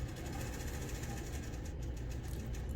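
A sewing machine stitches a quilt block, a steady, faint mechanical whir that hums along without a break.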